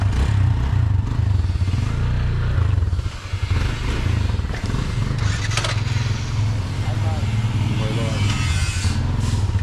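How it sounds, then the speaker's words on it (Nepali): A motorcycle is wheeled out and its engine runs with a loud, steady low rumble up close, mixed with clatter and scraping, and no voices. "भाइले बाइक निकाल्दैछ"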